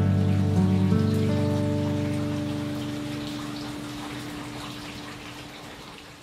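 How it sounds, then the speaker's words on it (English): Warm water runs steadily while hair heavy with product residue and tangles is rinsed, a continuous splashing spray that slowly fades over several seconds, with faint tonal music underneath at the start. "So I'm going to give it a good rinse with warm water."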